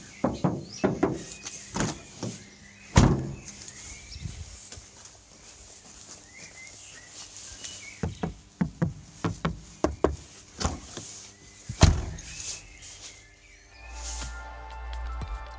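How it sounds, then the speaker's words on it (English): A car door with added sound damping and stabilizing is shut repeatedly, giving a series of close, solid thuds and knocks spaced a few seconds apart, with no talking. "Now I'll show you in a little video how the door sounds without and with damming and stabilizing."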